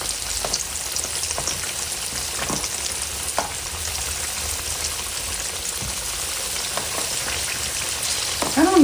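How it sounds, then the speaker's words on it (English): Sweet potato yams frying in oil, a dense steady sizzle and crackle close by, with occasional small pops and clinks throughout. "I'm gonna let these fry."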